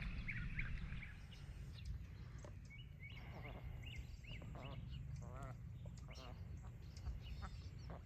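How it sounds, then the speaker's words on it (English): Ducks on a shallow lake give scattered quacks and calls amid outdoor background noise, with a person talking quietly nearby. "Here comes the ducks."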